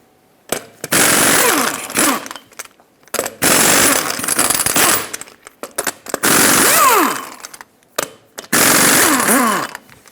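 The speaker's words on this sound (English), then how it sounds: "Now use a 22mm socket to remove all 8 lug nuts and then pull the wheel off." Lug nuts coming off a Ford E-350 wheel with a 22mm socket on an impact tool, loud close bursts of rapid hammering rattle, four separate runs with brief gaps between them.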